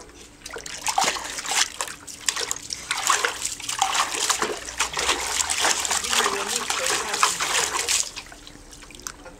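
A four-month-old Labrador puppy splashing in water while fetching a toy from the bottom: close trickling, splashing and sloshing in irregular bursts, with a person speaking over it.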